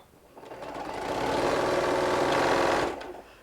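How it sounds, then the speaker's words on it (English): A sewing machine stitching walker bag fabric, running in one continuous fast burr for a few seconds, close and clear, starting and stopping cleanly with no talking. "Yep, this one you can sew right off the edge"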